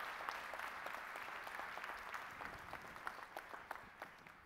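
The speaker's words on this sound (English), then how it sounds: "Let's give our president a round of applause for that inspiring message." Audience applause after a speech at a PSE executive director's conference address, a steady wash of many hands clapping with sharper individual claps, fairly faint and distant throughout.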